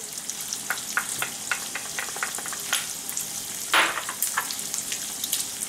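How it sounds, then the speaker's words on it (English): Chopped onion and celery fry in melted butter in a pan, giving a steady close sizzle with scattered pops and crackles and occasional stirring scrapes throughout. "Alright, our butter is melted nice. What we want to do next, just want to add our onion, our celery,"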